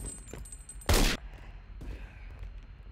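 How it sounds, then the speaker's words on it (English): A single sharp, loud sniper shot cracks out in a Roblox video game, standing out against a low background hum before fading. "Wow, my guy just got sniped."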